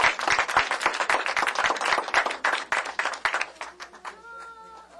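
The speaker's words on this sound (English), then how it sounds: "Let's have a round of applause for him." An audience at a business certificate presentation ceremony gives a lively round of close, crisp applause that thins out near the end, where a brief tonal squeak or voice cuts through.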